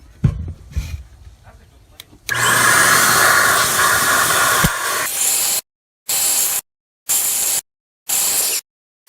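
Air is blown hard into a 20W indoor electronic bug zapper, one long steady hiss followed by four short repeated bursts with gaps between them. The blasts are close and loud, with a few handling knocks before.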